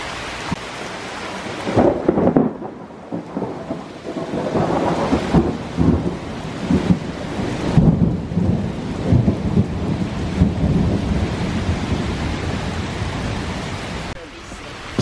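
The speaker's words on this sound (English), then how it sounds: "It started pouring. Look, it's raining." Heavy rain pours down steadily in an evening storm, with deep rumbles of thunder rolling underneath the constant hiss of the downpour.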